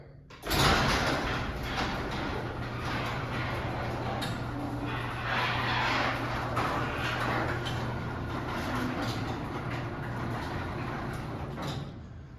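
A Liftmaster 3280M garage door opener raises a CHI garage door, giving a steady, continuous motor drone and rumble of rolling door sections for about twelve seconds, fairly close and without talk.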